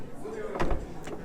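The door of a Toyota Crown Estate hybrid (AZSH38) shuts lightly with its window open, a single soft muted thunk, close by, with someone talking around it.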